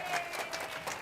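Studio audience applause on a quiz show, a short burst of lively clapping from a seated crowd, fairly close and moderately loud.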